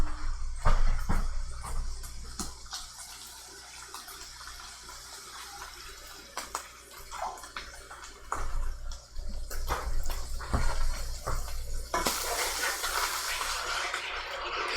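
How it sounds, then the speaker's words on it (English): Water splashes and trickles into a pot in uneven bursts, with a louder rushing pour near the end amid clatter, no talking. "And then we have to add 3/4 cup of water"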